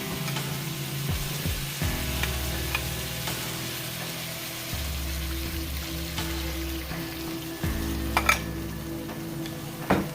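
Sauce hits a sizzling beef, broccoli and shrimp stir fry in a hot pan, a continuous close sizzle with brief metallic scrapes and clinks over a low hum.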